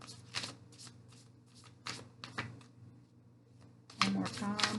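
Tarot cards being shuffled in the hands, with several quick riffling bursts separated by short pauses and a longer, fuller shuffle at the end. A voice is faintly heard underneath.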